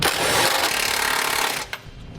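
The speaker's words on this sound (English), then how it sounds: "With a 14mm socket, I'm going to come back and tighten up my M8 bolts." Power tool tightening M8 bolts with a 14mm socket while mounting a Curt trailer hitch receiver on a 2011 Mazda CX-9; a loud, steady whirring rattle runs for about a second and a half, then cuts off with a brief clunk.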